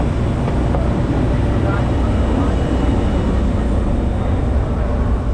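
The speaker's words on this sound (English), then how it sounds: "This is the smallest plane we've ever been in." Loud, constant drone of a small propeller plane's engine filling the cramped cabin on a flight from Miami to the Bahamas, with faint voices under it.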